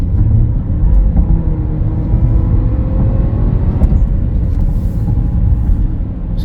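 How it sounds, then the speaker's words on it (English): A 2023 Audi A6 S line accelerates at full throttle in fifth gear, a loud, steady interior engine drone with road rumble that slowly rises in pitch. "Fifth gear, hands are up here, flooring it."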